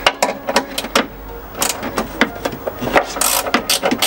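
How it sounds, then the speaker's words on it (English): Socket wrench ratcheting on a battery terminal nut in a BMW E70 X5M, giving quick repeated clicking strokes in an irregular rhythm, close and fairly loud, with no talk. "So I can't use a spanner on that, I'll have to use this socket."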